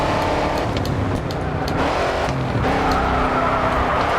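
Race car in the GRID 2 video game drifting with the handbrake, a loud continuous engine roar with tire squeal and skidding rising and falling across the few seconds, with no talking.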